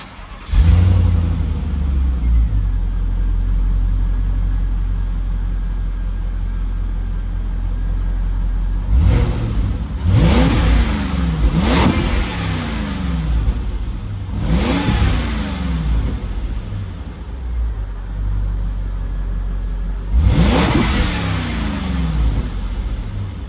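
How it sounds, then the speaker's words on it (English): A high-mileage Volvo XC90 V8 engine starts up, settles to a rumbling idle, then revs sharply four times with loud, throaty bursts that fall back between each. "let me put you in behind, and we'll just start the engine"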